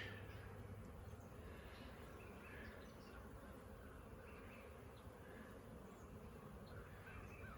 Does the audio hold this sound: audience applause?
no